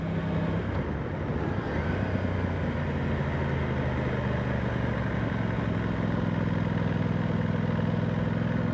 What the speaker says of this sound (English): I'm riding 20 mile an hour here in third gear and it's popping along no problem at all